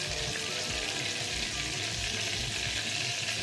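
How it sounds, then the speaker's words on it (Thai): A tom yum omelette frying in hot oil while a spatula presses it down, giving a steady, close, dense sizzle and crackle that holds throughout with no voices. "ใช้ตะหลิวนะคะ กดเอาน้ำมันที่ไข่ออกนะคะ กดลงเบาๆให้ไข่แห้งๆ นะคะ"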